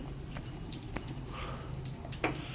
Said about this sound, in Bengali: গরম তেলে দিচ্ছি দুটো শুকনো লঙ্কা। শুকনো লঙ্কাটা খুব ভালো মতো করে ভেজে নিচ্ছি।